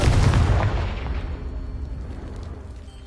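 A Confringo blasting spell explodes in Hogwarts Legacy, hitting with a loud burst at the start and then decaying into a rumbling, fading roar over a few seconds.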